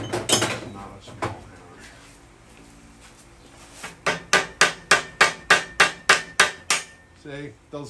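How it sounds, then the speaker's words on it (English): A small hammer taps repeatedly on plastic in a workshop, with a few scattered knocks first and then a steady run of about ten evenly spaced, crisp close strikes. "Small hammer."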